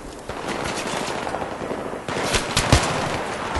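Gunfire from the Battlefield 3 video game during a co-op mission: steady rattling automatic bursts throughout, growing louder in the second half with a sharp heavy shot near the end.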